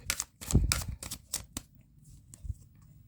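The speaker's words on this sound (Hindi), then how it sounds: "last shuffle" Tarot cards being shuffled by hand in a few quick riffling bursts, loudest early on and then a couple of softer flicks, close by in a quiet room.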